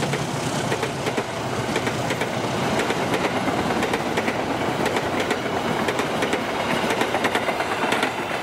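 The KA Matarmaja economy train, with one carriage door open, rolls past at Bekasi Timur with a loud continuous roar and rhythmic clickety-clack of wheels over rail joints, close by.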